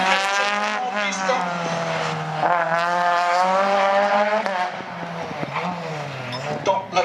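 A single-seater race car in the F2000 category runs a slalom course, its engine revving up and down through the gears with steady harmonic tone and short lifts, heard fairly close with faint voices in the background.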